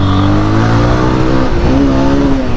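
A Yamaha R15 motorcycle engine revs hard and loud up close, a continuous buzzing roar that dips briefly as the throttle shifts, then climbs again.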